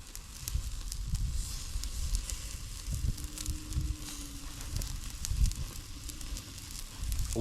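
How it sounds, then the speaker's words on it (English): Tomahawk steak searing over an open fire, a continuous crackling flame roar with spitting sizzles and occasional pops, fairly close and steady throughout. "Let it get kissed by that fire."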